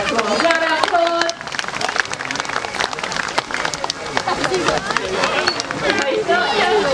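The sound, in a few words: audience applause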